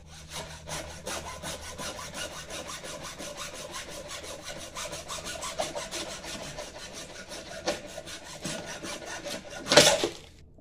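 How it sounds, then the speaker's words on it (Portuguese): A saw works through a tough pintado fish head, neck bone and all, being cut up for a sauce; steady close rasping back-and-forth strokes run throughout, ending with a louder harsh burst near the end. "Devagarzinho eu serro ele aqui."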